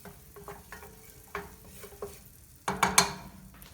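Half a stick of melted butter heats in a pan, giving a low steady sizzle with a few soft stirring scrapes and utensil clinks, and a louder burst of clatter near the end.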